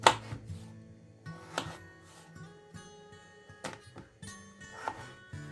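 Potatoes being chopped on a board for fish soup, irregular knife thuds spaced about a second apart, close and distinct with quiet gaps between cuts.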